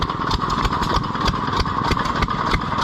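Antique gas engine, a Hercules-built type, running at a county fair engine display, a steady close chugging idle with regular rhythmic firing pulses and no talk over it.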